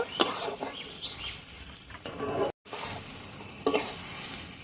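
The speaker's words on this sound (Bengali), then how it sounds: "মাছের মাথাটাও খুব সুন্দরভাবে কষিয়ে নেব" Rohu fish head sautéing in a pan with softened ingredients, a close crackling sizzle broken by scraping stirs, with a brief dropout partway through.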